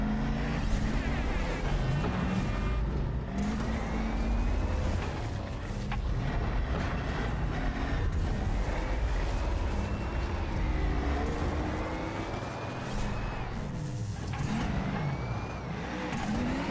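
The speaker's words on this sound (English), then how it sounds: "But the monster truck is big" A monster truck engine revs and surges in a racing video game on a jungle track, its pitch sweeping up and down repeatedly over a continuous loud motor drone with no talk.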